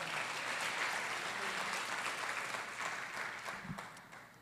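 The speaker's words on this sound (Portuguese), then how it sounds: "Você pode aplaudir ao Senhor?" A church congregation applauds the Lord during a sermon, sustained even clapping throughout that slowly tapers off toward the end, with a faint thump near the close.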